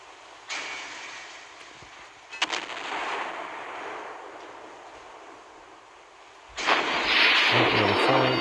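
Naval warship guns fire in the Naval Creed game: a few booming shots spaced seconds apart over a steady low drone of sea and engine, with a louder, brighter burst of impact noise near the end.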